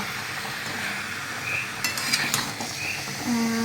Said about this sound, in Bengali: আলু দিয়ে দিলাম, পেঁপেটাও দিয়ে দিলাম, আর এখানে চিকেনটা দিয়ে দিলাম। ভালো করে কষে নেব।